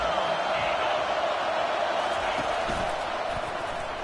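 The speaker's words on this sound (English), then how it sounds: "Decibels rising as the crowd gets behind this defense on 3rd down." Stadium crowd noise builds in a college football video game, Florida State at Florida, as fans get loud behind the defense on third down, a broad steady roar with a few faint thumps and commentary underneath.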